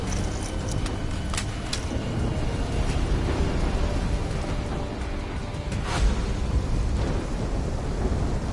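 A thunderstorm rumbles steadily as a dense, continuous roar throughout a Call of Duty Black Ops 3 scene, with a few sharper cracks standing out, no talk over it.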